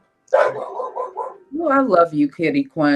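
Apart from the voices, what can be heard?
small dog barking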